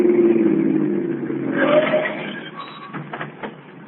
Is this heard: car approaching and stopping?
yes